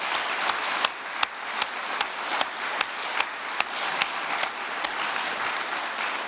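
Conference audience applause at a keynote by the Culture Secretary, a steady wash of many hands clapping with a few louder claps standing out nearby, lasting several seconds.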